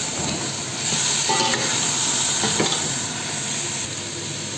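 Meat and onions sauté in a pot for an Arabic okra stew, with steady loud sizzling and frying plus occasional scraping stirs, close and continuous without talk.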